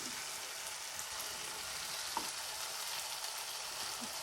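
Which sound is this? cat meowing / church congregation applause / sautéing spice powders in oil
sautéing spice powders in oil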